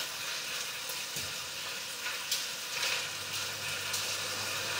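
Lamb sautéing in a pan, a steady bright sizzle and crackle of frying meat, close and fairly quiet, with occasional stirring clinks and no one talking.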